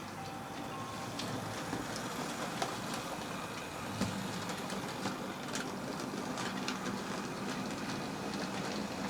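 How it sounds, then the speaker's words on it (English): A timber train rumbles and grinds steadily on rails, with scattered clanks and knocks of wagons shunting, moderately distant and without talk. "So that's the timber train in there."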